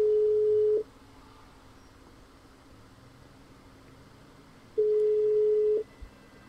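An unanswered phone call in the game GTA 5 gives two steady electronic ring tones about four seconds apart, each lasting nearly a second, over a low quiet background hum.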